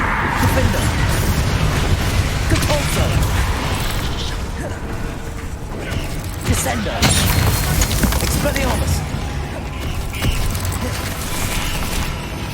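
Spell blasts of Confringo and Depulso in the video game Hogwarts Legacy, dense crackling bursts and booming impacts layered over continuous combat noise, loud and sustained throughout with brief louder surges.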